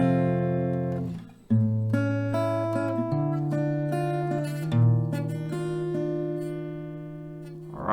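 An acoustic guitar plays a slow sequence of single notes from a song, each ringing out and sustaining into the next, with no voices.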